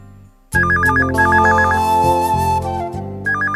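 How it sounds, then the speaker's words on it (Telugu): A phone rings loudly after a short quiet start, a repeating electronic warbling tone over a sustained musical backdrop in a television drama scene, with no talking. "ఆ ఫోన్ చూడు."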